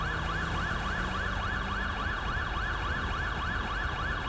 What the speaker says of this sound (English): Just get him on the ground and then we'll turn that siren off.